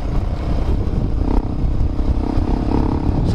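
A tuned Honda Falcon motorcycle runs hard on a race track in fifth gear, its engine droning and growling steadily at high revs, close and loud throughout with a rough, buzzing tone.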